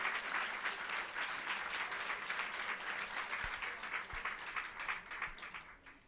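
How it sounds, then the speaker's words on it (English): An evening event audience applauds the sponsors with a sustained round of clapping, steady and fairly distant, fading slightly toward the end. "just a round of applause to all those sponsors that are helping us tonight"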